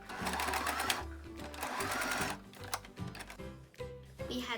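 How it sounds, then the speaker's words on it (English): Sewing machine stitching a boxed corner on a zippered fabric pencil case with a 1 cm seam allowance, running in close, steady bursts with brief pauses between runs. "we're going to sew. We are going to box the corner with 1 centimeter of seam allowance."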